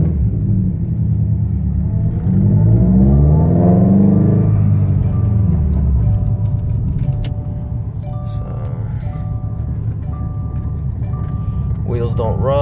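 A lowered, tuned 2016 Subaru WRX STI making 353 wheel horsepower rumbles and revs loudly through a test run, its engine note sweeping up and down steadily for the whole stretch, with a person talking over it.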